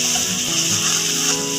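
Masala frying in hot oil, a brief, continuous close sizzle with faint stirring.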